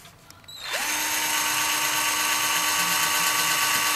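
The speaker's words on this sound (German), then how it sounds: "jetzt werde ich mal hier an der Abrissschraube mit der Bohrmaschine gehen" A power drill starts up after a brief quiet moment and then runs steadily at high speed, whining loudly and continuously, drilling out a shear-off screw on a Malaguti Yesterday 50 scooter.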